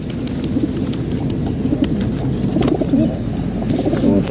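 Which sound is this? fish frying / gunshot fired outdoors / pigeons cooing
pigeons cooing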